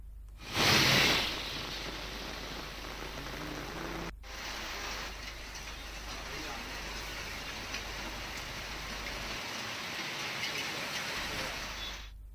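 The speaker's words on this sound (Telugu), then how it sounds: "ఉరుములు ఈదురుగాలులతో భారీ వర్షం కురిసింది" Heavy rain pours in Hyderabad in a steady, dense hiss, with a brief louder splash near the start and a short break partway through.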